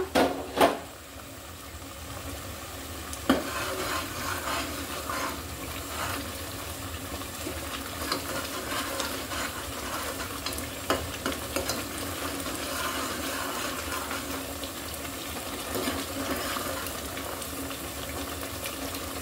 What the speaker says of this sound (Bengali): জাল ছোট করে দিয়ে ভালো করে কষিয়ে নিব।